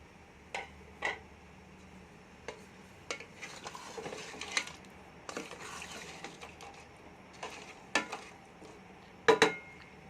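Potato pieces going into a pot of mutton curry on the stove, with scattered light clinks and knocks of pieces and a utensil against the pot, faint and spaced out with quiet gaps.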